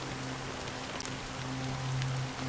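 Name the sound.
rain falling, from video game Honkai Star Rail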